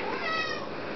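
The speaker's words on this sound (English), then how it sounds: "It's my cat." A cat meows once, close and clear, in a home kitchen, a short bright call with a rising and falling pitch.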